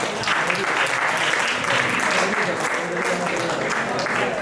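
A crowd at a Hindi poetry gathering (kavi sammelan) applauding, dense sustained clapping that stays loud and even throughout.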